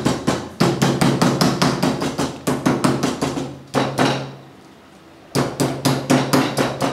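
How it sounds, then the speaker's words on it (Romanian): A schnitzel meat hammer pounds meat in a kitchen, sharp rapid thuds in fast runs of blows, broken by brief pauses and one longer gap, loud and close with no talk. "Pentru început trebuie să batem puțin carnea cu ciocanul de bătut, ciocan de jnițele, așa se spune."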